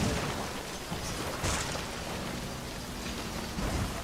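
Steady rain hisses down in Death Stranding, a dense, even wash filling the whole stretch, with a low engine-like hum faintly underneath.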